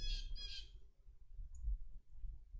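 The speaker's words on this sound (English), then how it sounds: "the chirping bird is outside" A bird outside gives two quick, harsh chirping squawks at the start, faint and distant, followed by a low background rumble.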